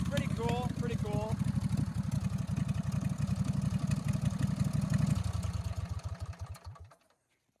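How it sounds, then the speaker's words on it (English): A mud mower engine is held hard against its rev limiter, a loud, close, rapid pulsing stutter that continues for several seconds, then winds down and cuts out. "That's the first time I actually had it up to rev limiter like that."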